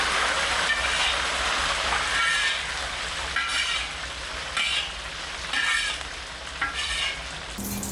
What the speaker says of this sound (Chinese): 把热油搅入大碗中，这个香味就一下就出来了。